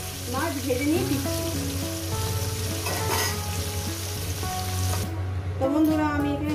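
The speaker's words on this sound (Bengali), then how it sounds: "আর দুটি সাথে বন্ধুরা একেবারে মাছ ভেজে নিয়ে দিচ্ছি।" Fish fries in hot oil in a home kitchen while preparing a Bengali fish curry with okra and potato, giving a loud, steady, dense sizzle throughout, with faint tonal background sounds beneath.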